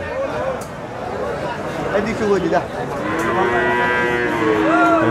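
Cows low repeatedly at a busy cattle market for milking cows and calves, the drawn-out moos rising and falling over a steady crowd murmur, with people talking throughout.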